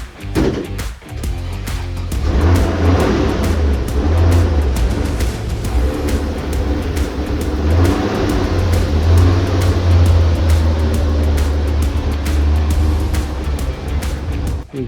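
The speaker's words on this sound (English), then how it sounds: "now it's time to drive it out, turn it round" A Toyota FJ40 truck's engine runs steadily and close by as it is driven out and turned round in a very small garage, a low continuous rumble holding for the whole stretch with slight swells.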